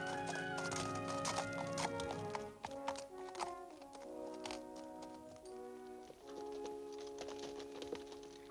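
Horse hooves clip-clop steadily in a medieval drama scene, set beneath prominent orchestral music throughout.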